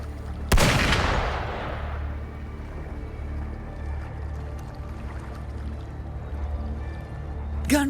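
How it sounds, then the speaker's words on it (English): A single sharp gunshot blast from the video game Wuthering Waves cracks out loud near the start, then decays into a low rumbling ambient drone that continues to the end. "Gunfire! We've got intruders."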